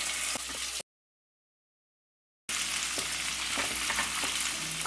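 Chopped tomatoes sauté in a pan with a continuous close hiss and crackle, interrupted by a short stretch of complete silence before the sizzling resumes.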